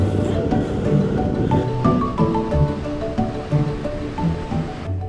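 Ocean waves crash and wash continuously onto the beach at Bayah, a steady, full roar of surf that stays loud and close throughout, with no voices.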